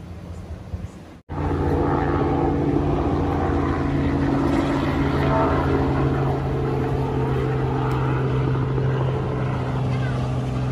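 A loud, steady helicopter engine drone with rotor thrum fills the scene after a brief cut, continuous and close, on a sightseeing flight around Sanya island, China.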